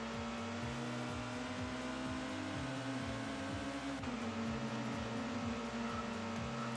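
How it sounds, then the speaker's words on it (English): Touring cars race in the video game ToCA World Touring Cars, giving a fairly quiet, continuous engine drone with shifting pitch. Other cars can be heard in the distance, and there is no talk. "you can hear the cars coming down the hill on the other side there when you're going up"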